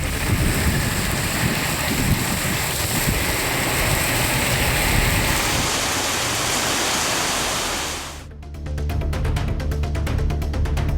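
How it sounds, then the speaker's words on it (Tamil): Heavy rain pours during a thunderstorm as a loud, dense, continuous hiss. Near the end the sound shifts abruptly to a rougher, choppier wash of rain noise, and no thunder stands out. "இடி மின்னலுடன் மழை பெய்தது."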